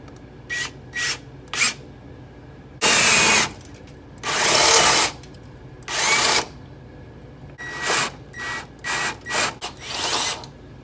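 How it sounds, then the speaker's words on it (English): A power drill with a step bit cuts into metal in a series of bursts, short quick ones then several longer grinding runs, close and loud with pauses between. "found my drill. Just got to grab a drill bit, step bit, riv nuts"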